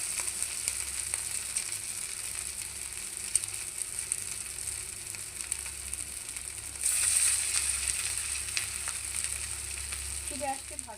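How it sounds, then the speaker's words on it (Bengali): Fingers of potato, sweet pumpkin and noodles fry in oil over medium-low heat, giving a continuous close sizzle that swells louder partway through, with a light utensil clink near the end. "মিডিয়াম টু লো হিটে কিন্তু ভাজতে হবে"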